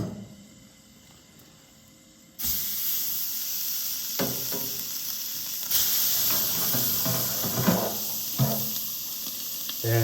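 A steak searing on a very hot cast iron pan, quiet at first, then a sudden loud, continuous hiss and sizzle that swells further midway, with occasional spits and crackles.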